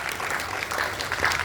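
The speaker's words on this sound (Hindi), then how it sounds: "हम चाहते हैं कि उनका जोरदार तालियों के साथ अभिनंदन किया जाए" Steady, enthusiastic applause from an indoor audience at a literary society's foundation day event, as a guest is welcomed on stage, dense continuous clapping throughout.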